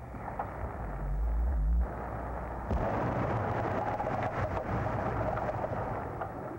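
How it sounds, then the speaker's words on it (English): A heavy low boom erupts, followed by a sharp concussive burst and churning, rumbling turbulence, a muffled underwater explosion as lava forms pillows about 80 feet deep, with no voices. "Watch for the explosion."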